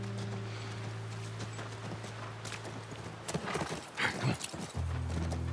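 A horse in the video game The Last of Us Part 1 clip-clops at a walking pace, a run of moderate hoof strikes over a low droning score, fading and then returning.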